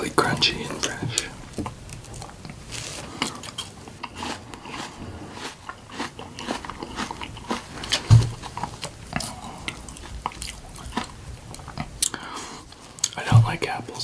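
Close-miked chewing of a crunchy, fresh Fuji apple, with steady wet crunches and a few sharper bites over about fourteen seconds, soft whispering mixed in.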